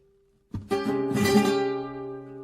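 A single flamenco bulerías strum on guitar with the first string left open rings out after a faint held note, bright and close, then slowly decays.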